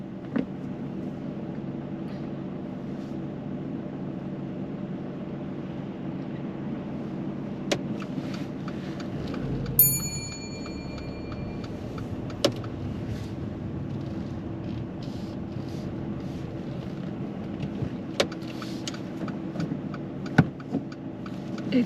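Car engine idling and creeping steadily during a driving-test reverse parallel park exercise on a road beside a parked vehicle, a low continuous hum with a few faint clicks and knocks, no talking.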